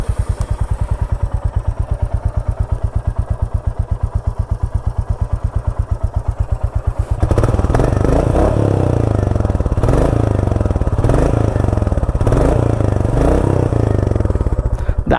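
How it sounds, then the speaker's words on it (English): A Royal Enfield Classic 350 single-cylinder motorcycle idles with a steady, loud thumping exhaust beat, then revs harder about halfway through, its note rising and pulsing in repeated throttle blips close by. "let's hear the iconic classic 350 exhaust note too"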